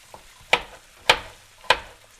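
An onion in a pan gives three short sizzling bursts, evenly spaced about half a second apart, close and moderately loud, with no talking.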